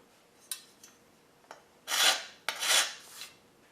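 A metal file rasps across a corroded, nicked steel lawn mower blade, first in a few light scrapes and then in two longer, louder grinding strokes, close up and with no voices.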